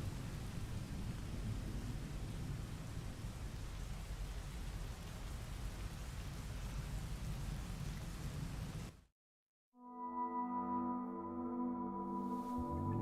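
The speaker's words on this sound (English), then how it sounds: "Oh, it does rain in this room." Rain World video game: a dense, steady roar of heavy rain with deep rumbling thunder fills most of the span, then cuts to silence and gives way to soft tonal game ambience.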